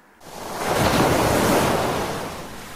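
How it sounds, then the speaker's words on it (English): Sea waves crash on the shore beside a seaside palace at Argos, a broad steady roar of surf swelling in after a moment of quiet and holding loud and close with wind-like hiss, no voices. "Danae could hear the waves crashing outside."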